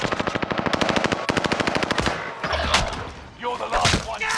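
Rapid automatic gunfire in Call of Duty Warzone, a loud steady burst of evenly spaced shots followed by a second burst, then scattered impacts and thuds.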